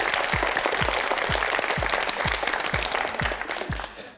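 A studio audience on a Korean television quiz show applauds a contestant in dense, loud clapping. Deep, evenly spaced thumping beats run beneath it and fade as the applause tapers off.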